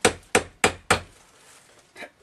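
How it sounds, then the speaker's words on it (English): A hammer taps a screwdriver resting on a lock's circlip, with the lock clamped in a vise while being re-pinned: four sharp, close metallic knocks in quick succession, then a softer fifth tap after a pause. "Tap that circlip off."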